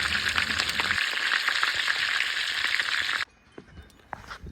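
Chicken thighs frying in hot grease make a loud, dense crackling sizzle up close for about three seconds, which then drops to quieter, intermittent spitting and pops.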